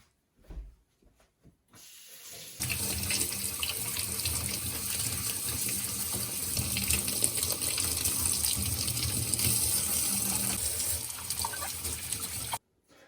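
Tap water runs steadily into a kitchen sink as vegetables and garlic are washed for a protein bowl, a loud continuous gush lasting about ten seconds after a few brief handling knocks.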